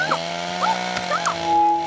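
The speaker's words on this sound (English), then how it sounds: "Put down your chainsaw." Cartoon chainsaw in an animated Mr. Bean episode runs with a steady buzzing drone, close and fairly loud, while short sliding vocal or whistle-like sounds break in over it.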